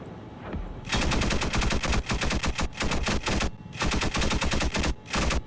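Rapid bursts of automatic gunfire rattle in several long volleys separated by brief pauses, sharp and close.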